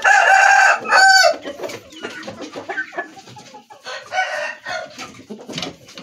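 Chickens nearby: a loud rooster crows twice at the start, followed by a run of softer scattered clucks and squawks from the fowl.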